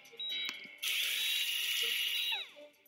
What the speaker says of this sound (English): Okay, we're drilling until we hear a little poof of air, right?